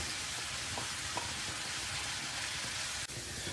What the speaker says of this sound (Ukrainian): Тепер додаємо морку. І будемо обсмажувати вже разом.